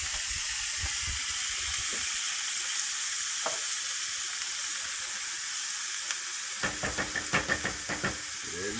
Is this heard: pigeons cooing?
no